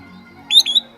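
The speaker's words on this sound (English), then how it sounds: "if you don't first hear its high-pitched alarm calls echoing down the shoreline" A spotted sandpiper gives a few sharp, high-pitched alarm notes along a shoreline, three quick piercing peeps in the last half second over a faint low hum.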